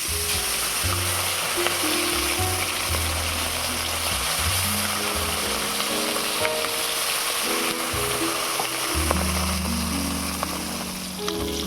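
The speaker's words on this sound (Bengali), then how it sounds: "তেল গরম হয়ে গিয়েছে এবারে মাছগুলো ভেজে নেব" Bata fish fry in hot mustard oil in a kadai on a stove, giving a steady, close crackling sizzle that bubbles on without pause, with small pops scattered throughout.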